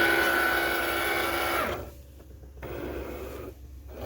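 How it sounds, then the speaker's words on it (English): A cutting machine scanning a printed sheet of cardstock, a steady whirring motor drone that cuts off midway, leaving quieter mechanical pauses and a brief resumption, close and fairly loud. "so my machine is scanning"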